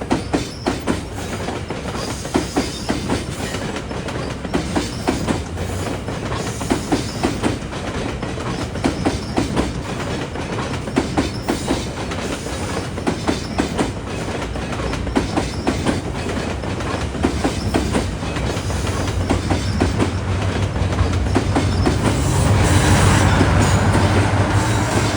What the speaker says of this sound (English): Train on the right is heading for Allendale Waterfront and Barrie.